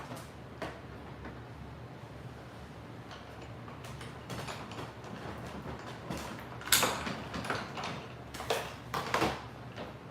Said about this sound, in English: I'm going to go run this through the die cutting machine